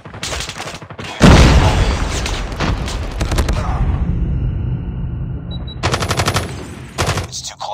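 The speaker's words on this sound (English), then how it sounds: "Grenade out!" Call of Duty combat with a loud grenade explosion and bursts of automatic gunfire, sharp repeated shots before and after the blast, with shouted voices in the mix.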